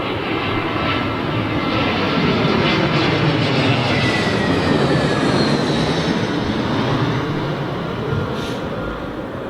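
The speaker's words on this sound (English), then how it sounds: "We've got 380 inbound. Emirates 380, isn't it?" An Emirates Airbus A380 inbound to Heathrow's 27L, its four engines a loud, dense roar that stays strong and close throughout before easing a little near the end.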